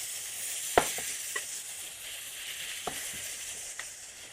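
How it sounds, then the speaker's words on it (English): Steady hiss of mushrooms frying in hot oil, with a few sharp pops and clinks of stirring scattered through, close and clear, no talking. "Oh, you can hear that sizzle. You want to get the oil nice and hot"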